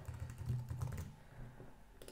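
Quick, light keystrokes tap on a computer keyboard in a short run, close and fairly quiet, with no talking.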